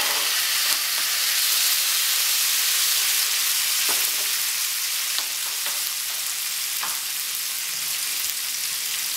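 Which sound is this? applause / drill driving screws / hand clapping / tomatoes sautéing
tomatoes sautéing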